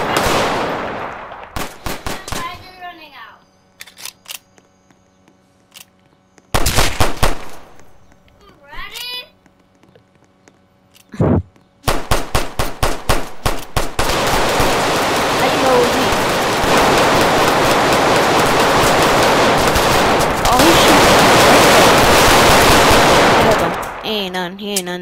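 Gunfire from a gun in a video game: scattered sharp shots and short rapid bursts give way to a long, dense, loud stretch of continuous firing, with people talking in between.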